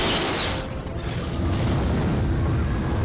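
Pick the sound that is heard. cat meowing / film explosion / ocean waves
film explosion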